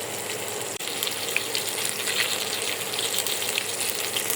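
Fish frying until crispy in a pan, a steady close hiss of sizzling oil that runs unbroken throughout with one brief dip near the start.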